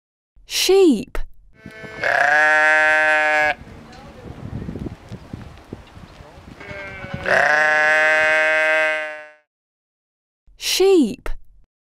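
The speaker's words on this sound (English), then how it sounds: "Sheep." A sheep bleats in two long, loud, close calls separated by rustling and shuffling noise, with shorter sharp cries at the start and end.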